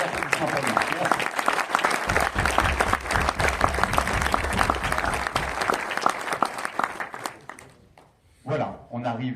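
Loud, dense applause from an audience at a film premiere evening runs for several seconds, then fades out and gives way to a voice speaking.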